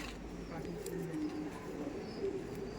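Male pigeons coo in low, throaty, repeated phrases close by, with faint voices murmuring in the background.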